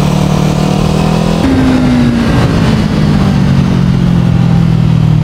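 A Kawasaki Ninja 400 motorcycle on the Carole circuit roars loudly and steadily from close by, its engine pitch stepping up with a gear change and then easing gradually as it pulls along the track.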